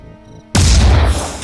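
A weapon fires in the turn-based tactics game Phoenix Point, a single sudden loud boom that cuts in after a quiet stretch and rolls on as a broad, sustained blast.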